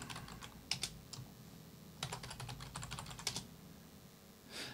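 Soft clicks of a computer keyboard as a password is typed at a Raspberry Pi terminal, a few isolated keystrokes followed by a quick burst of typing, close and quiet with no speech.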